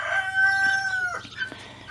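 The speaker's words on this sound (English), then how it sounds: "He's a good rooster." A rooster crows once nearby, a loud, drawn-out call that breaks off into a few rough trailing notes.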